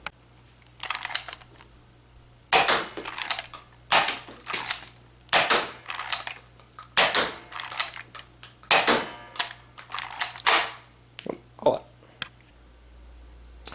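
Modded Nerf Hammershot toy blaster firing in a demonstration, a series of sharp, snappy shots in quick irregular bursts, loud and close, with faint background noise between shots and no talking.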